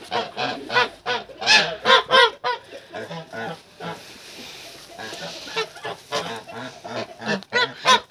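Geese honk loudly and repeatedly up close, a noisy flock calling in bursts with a few quieter gaps between.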